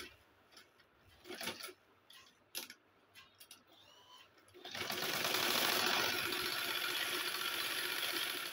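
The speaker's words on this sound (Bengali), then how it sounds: "এখন আমি লাভারের ঘরটা সেলাই করে নিব।" A sewing machine stitches a kurti. A few scattered clicks and fabric handling noises come first, then a steady, fast whirring run of stitching starts and continues loudly to the end.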